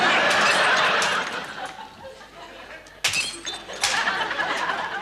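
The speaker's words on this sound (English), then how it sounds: "Why are you smashing up saucers, Rick?" Saucers being smashed, with crockery breaking in sharp crashes and clinks, one loud shatter partway through and scattered fragments after, alongside chuckling voices.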